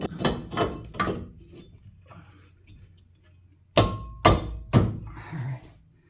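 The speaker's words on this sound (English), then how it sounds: "let's get the rotor on." Brake rotor going onto the front hub of a Mitsubishi Ralliart: a few faint metallic handling knocks early on, then three loud close thunks in quick succession as the disc seats, with quiet pauses between.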